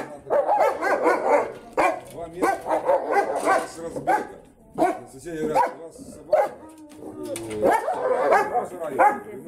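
A big caged dog barks and growls in loud, repeated bursts with some whimpering yips between them, while people talk nearby.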